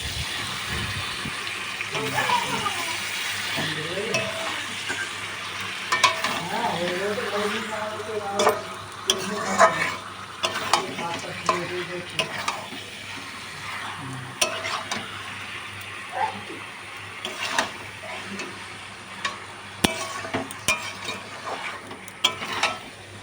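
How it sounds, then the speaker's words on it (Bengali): Chicken pieces being stirred with spices in a hot frying pan for chicken curry, a steady sizzle under repeated scraping and clinking of the spoon, with some faint background noise. "দিয়ে এরপর নাড়াচাড়া করে নেবো বেশ কিছুক্ষণ ধরে।"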